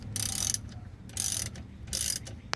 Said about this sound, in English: Get my wrench